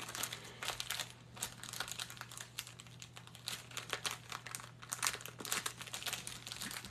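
A plastic gift bag crinkles steadily up close, with dense irregular crackles and rustles as its corners are folded in over a low background hum.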